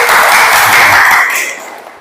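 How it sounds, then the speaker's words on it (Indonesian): Brief burst of loud applause from a group at a teaching practice session, dense clapping that fades out over about two seconds, with no talk. "tepuk tangan untuk semuanya."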